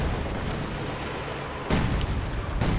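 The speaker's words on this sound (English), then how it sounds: "Katusha barrage is falling right on top of the PAC gun that's getting constructed" Katyusha rockets from a barrage in Company of Heroes 2 slam down on the winter Rzhev map. Two sharp, loud impacts punch through a steady wash of distant battle noise, about a second apart.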